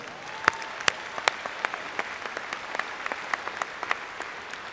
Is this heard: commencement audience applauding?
yes